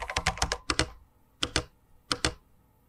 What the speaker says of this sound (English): Typing now.